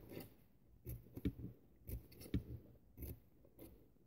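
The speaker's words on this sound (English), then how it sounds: "So I'm going to cut my petals in." Scissors snipping paper flower petals, a series of short, close, quiet cuts and crisp paper rustles in an uneven rhythm.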